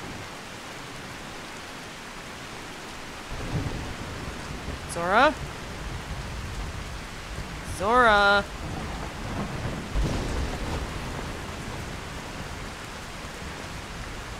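Constant rain and low rumbling thunder in Skyrim fill the background at a steady level, while a voice calls out twice over the storm.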